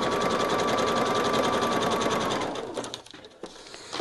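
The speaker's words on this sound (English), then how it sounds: "lay your next little strip of scrap on and sew it as well, the same way you did the first piece" Sewing machine stitching strips of scrap fabric for a table runner, with a fast, even, close-up whir that slows and stops near the end, followed by a few faint handling clicks.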